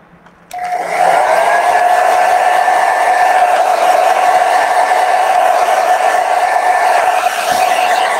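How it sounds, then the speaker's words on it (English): A hair dryer, used to dry watercolor paint, switches on after a moment of quiet and then runs loud and steady with a constant whirring hum. "I'm gonna just go over this with a blow dryer just to quicken the drying time."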